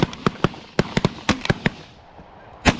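Shotgun blasts during a goose hunt over a cut corn field: about nine sharp, loud reports in an uneven volley, bunched close together, then a pause and one last shot at the end.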